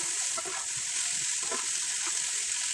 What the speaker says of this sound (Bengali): সিম দেওয়ার পরে নিয়েছি একটু হালকা কিছুক্ষণ ভেজে নেব